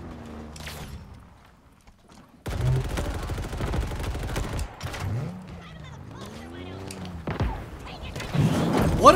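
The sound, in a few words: enemy gunfire in the video game Halo Infinite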